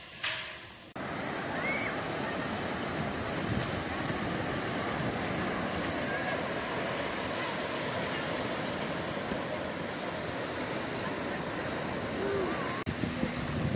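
Steady broadband wash of ocean surf at Bethune Beach, Florida, heard from a boardwalk, continuous and fairly loud with some wind rumble, no distinct individual waves standing out.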